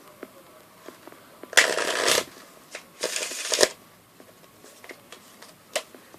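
A mixed deck of playing cards is riffled close up in two crisp, rapid bursts of about half a second each, with scattered soft card taps and handling clicks around them in a quiet room.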